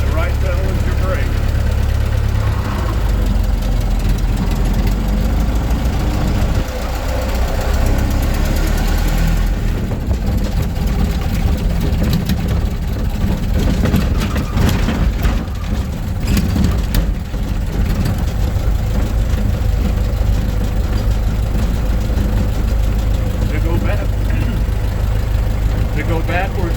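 A Ford Model T engine idles steadily, a dense low rumble that runs continuously and fairly loud through the whole stretch, with some shifting mechanical rattle midway.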